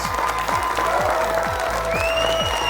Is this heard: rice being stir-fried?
no